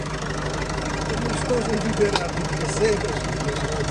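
A Peugeot 3008 with a 1.6 HDI diesel engine idles at a steady, even rumble, heard close during a used-car inspection, with a few faint clicks and light background noise on top.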